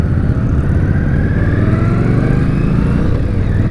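An Indian Scout motorcycle engine roars loud and continuous at close range, a throaty mid-pitched rev that holds steady throughout with a faint mechanical clatter underneath.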